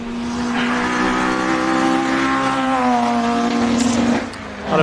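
A small 1600cc race car engine at a hill climb revs hard and steadily, its pitch rising and holding in a loud, close whine before easing off near the end.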